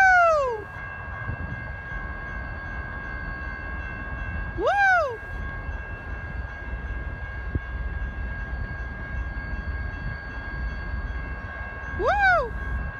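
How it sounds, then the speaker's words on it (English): A BNSF manifest freight train passes in the Puget Sound area in December, its loud horn sounding three separate blasts over a continuous low rolling rumble, with a person briefly shouting. "here comes another manifest train"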